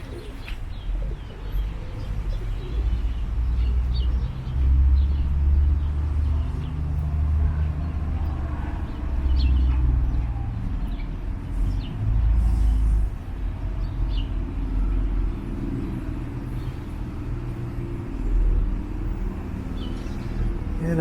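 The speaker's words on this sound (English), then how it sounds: "Found where all the pigeons are hanging out." Pigeons coo on a winter street in Bloor West Village, Toronto, with soft repeated low cooing and a few chirps under steady traffic rumble and city noise.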